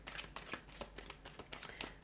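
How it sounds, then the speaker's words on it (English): Tarot cards being shuffled in a quick run of crisp, papery riffles and snaps, close and soft, with no voices. "give the cards a shuffle"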